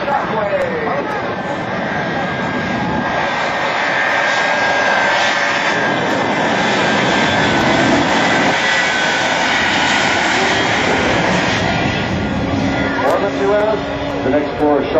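Shockwave jet truck, a Guinness-record truck reaching 376 mph, roaring at a military air base open house: a loud sustained jet-engine howl and rumble held throughout, with speech heard over it.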